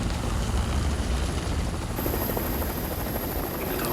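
A firefighting helicopter flies close by during a wildfire operation, its loud, steady rotor thump and turbine whine filling the air continuously.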